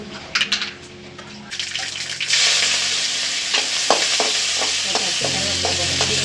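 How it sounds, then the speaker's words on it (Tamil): Oil crackles and sizzles loudly as mustard seeds and urad dal hit the pan for temple-style puliyodarai, with a few stirring clinks before the frying settles into a steady hiss. "கடுகு போட்டு நல்லா பொரிக்கிட்டோம்"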